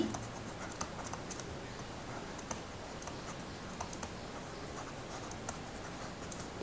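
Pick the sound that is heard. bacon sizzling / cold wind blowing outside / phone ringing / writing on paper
writing on paper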